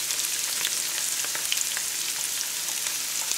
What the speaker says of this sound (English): And fry for some time